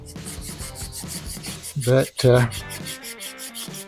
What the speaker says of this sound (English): now it's just the hand sanding.